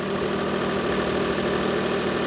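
Smart ForTwo 451 idling with a loose, unwelded exhaust section, giving a steady close engine drone with a continuous buzzing rattle throughout and no talking.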